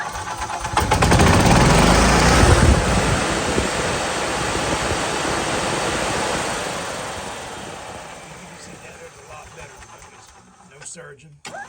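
A Kawasaki engine on an EZGO golf cart revs up hard under the throttle, a loud rough roar that peaks early, then holds and slowly winds down toward idle, with someone talking at times over it.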